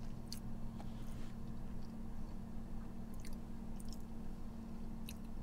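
Close, soft chewing of an orange dreamsicle cake pop from a fast-food place, with wet, squishy bites and faint clicks, no talk over it.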